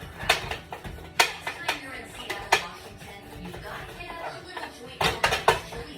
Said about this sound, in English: I'm dumping my ground beef back in my pan. Okay, and I'm chopping it up because I don't want any big chunks.